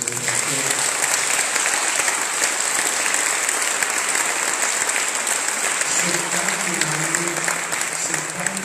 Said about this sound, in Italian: Vi chiedo un applauso per lui.